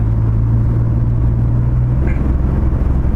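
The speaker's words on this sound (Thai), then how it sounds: "เสียงเครื่องหกสูบตัวเนี้ยเพราะมากนะครับ" A BMW E46 with a six-cylinder engine runs at a steady idle, a loud, even low rumble with a constant hum and no change in revs.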